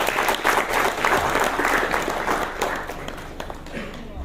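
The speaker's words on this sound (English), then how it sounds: "can we have a big round of applause?" Sustained applause from an audience at a sustainable energy forum, a dense wash of clapping that holds steady before tapering off slightly.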